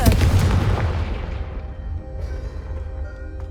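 A big fiery blast from the Confringo spell in Hogwarts Legacy, a loud booming explosion that hits at once and then rumbles and fades over a few seconds, with no talking over it.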